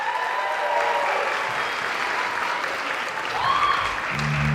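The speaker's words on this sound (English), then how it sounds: "One more round of applause for her." A high school spring band concert audience applauds a tenor saxophone soloist, a sustained, even wash of many hands clapping close by, with a few cheers rising above it near the end.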